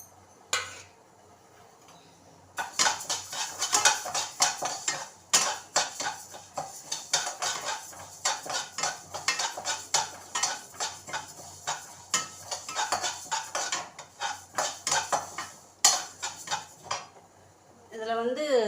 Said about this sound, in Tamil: கடைசியாக நம்ம பாசிப்பருப்பை வறுத்துக்கலாம்.